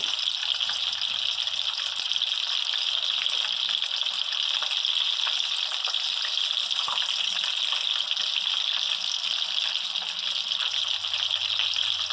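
Shrimp-topped bread frying in a pan gives a steady, bright sizzle that holds evenly for the whole stretch, close and fairly loud, with no voices over it.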